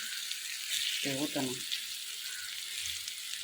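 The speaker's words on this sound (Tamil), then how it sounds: "அப்படியே சிம்மில் வச்சு பொறுமையாக வறுத்து எடுத்து" Fish fries in oil on a dosa pan over low heat, a steady soft sizzle throughout, with a brief voice heard faintly over it.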